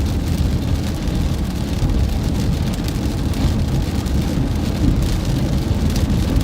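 Heavy rain pours steadily during a storm, a dense, loud, unbroken hiss with a low rumbling undertone and no voices.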